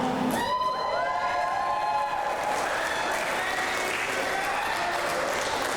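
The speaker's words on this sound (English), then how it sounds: "thank you for cheering me on" A crowd at an Adelaide wrestling show applauds and cheers the ACW heavyweight champion. A brief high whoop opens a loud, continuous roar of clapping and cheering that fills the hall.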